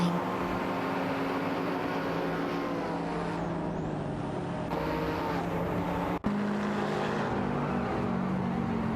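Racing car engines from a Corvette and a Porsche drone steadily in a racing video game, a continuous close, moderately loud tonal hum with a brief shift midway and a short break near the end.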